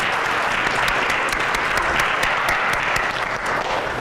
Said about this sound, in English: can we have one more round of applause for all our winners and all the finalists today?